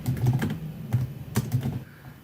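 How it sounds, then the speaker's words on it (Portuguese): Fast, close typing on a computer keyboard while entering a label in Python Tkinter code, a loud run of clicky keystrokes in uneven bursts with no voice over it. "deixa eu antes aqui digitar um label, vou chamar de label 1"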